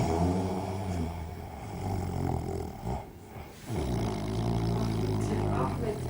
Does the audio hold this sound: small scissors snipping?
no